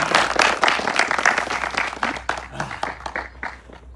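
An audience claps at a comedy show, bursts of hand clapping with some voices mixed in, strongest at the start and thinning out toward the end.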